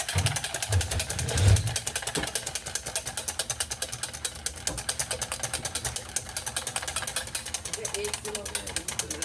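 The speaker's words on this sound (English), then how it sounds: "I'm gonna make this whipped cream. I'm just gonna turn the whipped cream here. Just keep whipping." Cream being whipped by hand with a turning crank whisk, a fast, steady mechanical clicking and whirring that runs continuously and close, with a little handling noise early on.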